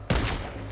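A single sharp sniper rifle shot from the video game Fortnite, a sudden loud crack that fades into a brief rumbling tail.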